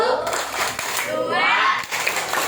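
Children clap their hands in a classroom counting game, a few quick claps mixed with young voices talking close by.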